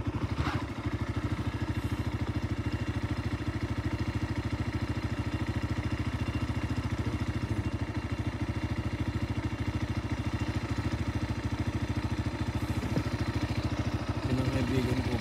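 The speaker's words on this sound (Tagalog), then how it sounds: "ang gamit naming motor ay KRY 200" A KRY 200 trail motorcycle idles steadily on a mountain road, its engine putting out an even, rapid low thrum close by, with no voices over it.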